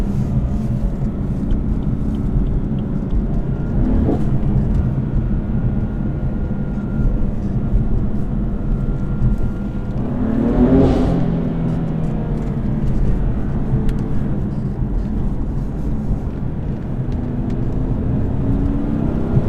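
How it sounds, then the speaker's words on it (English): BMW M4 with an M Performance exhaust on the road, a continuous engine drone with a rising rev sweep in the middle, heard from inside the cabin. "That M Performance exhaust sounds pretty good."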